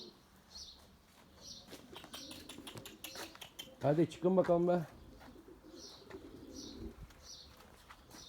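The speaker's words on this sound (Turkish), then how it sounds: "Bir tane de uçan kuşumuz var havada." Tumbler pigeons, including a white male, coo in soft repeated low calls amid faint wing flutters, while someone speaks nearby and other scattered outdoor noises intrude.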